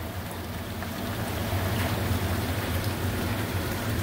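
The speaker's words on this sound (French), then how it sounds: "ça bouille partout, là" Maple sap boiling hard across a flue evaporator pan, a dense, loud, continuous roaring bubble with a low rumble underneath, steady from start to finish and free of speech.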